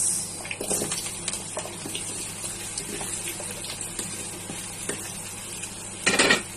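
Potatoes fry in a pan for Kapampangan-style pork caldereta, a steady close hiss of sizzling oil with small stirring clatters and a louder burst near the end.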